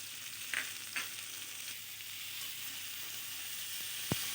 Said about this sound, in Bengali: দিয়ে ভালোভাবে কিছুক্ষণ নাড়াচাড়া দিয়ে দিয়ে দেব টমেটো কুচি।